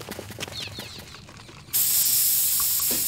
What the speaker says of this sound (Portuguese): vamos alterar o grafite do 4x4 do Slim